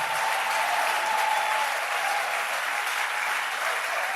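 Church congregation applauding during a worship service, dense continuous clapping that fills the room at a steady loud level.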